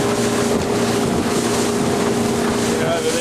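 A motorboat runs steadily on a creek, its engine a constant loud drone mixed with wind buffeting the microphone and water noise, with no talking.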